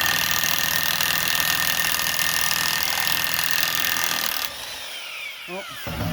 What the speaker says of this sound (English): I use this DeWalt impact gun.